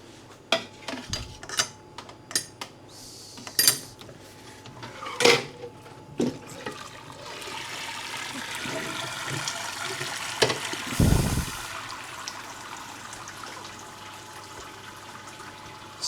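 Metallic knocks and clinks sound as a malt pipe is lifted out of a brewing vessel, followed by a steady rushing trickle of wort draining back down, close and moderately loud.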